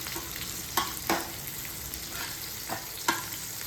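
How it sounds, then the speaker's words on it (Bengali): Chopped onions fry in oil with whole spices for a cauliflower roast, a constant close sizzle broken by a few sharp clinks of a spoon stirring the pan, no voices. "পেঁয়াজ কুচনোটা দেওয়ার পরে বেশ ভালো করে নাড়াচাড়া করতে হবে যতক্ষণ না বাদামি রং এসে যাচ্ছে।"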